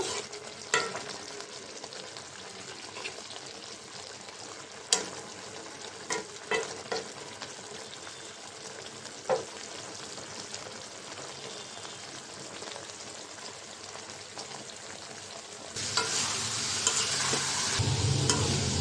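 Mixed fresh fish frying in a pan give a steady sizzle with scattered spatula clinks and stirring knocks, and the frying grows louder and hissier near the end.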